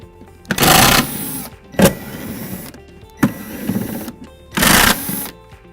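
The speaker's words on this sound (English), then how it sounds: "This one has 4 screws that we have to remove." Screws being removed from the cover of an Astral Pool Viron eQuilibrium chlorinator with a power driver, heard as loud whirring bursts of about half a second separated by quieter gaps and a couple of sharp clicks.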